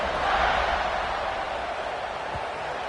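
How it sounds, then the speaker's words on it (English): A stadium crowd at a football game gives off a steady, dense roar of many voices that holds at an even level throughout. "this crowd is buzzing after that last score"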